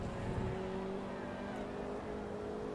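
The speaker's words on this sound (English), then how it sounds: "This game's engine notes are interesting to say the least." A race car engine in Forza Motorsport 2 during a Class C Grand Prix at Laguna Seca drones steadily at a constant pitch, with a slight rise in tone, heard alone without talk.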